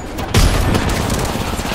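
Sudden heavy gunfire in Apex Legends: a sharp blast and then a dense, continuous rattle of shots, loud and close, lasting the whole short moment.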